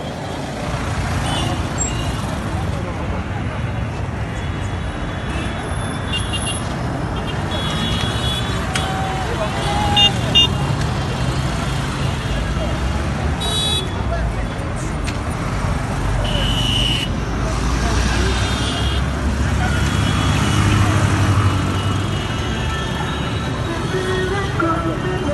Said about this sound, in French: la circulation à 22h à Kinshasa